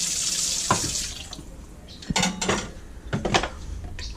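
Water pours into an Instant Pot holding beef stroganoff and noodles. A steady splashing stream runs at first, then gives way to intermittent clinks and short bursts of pouring, all close up with no talk.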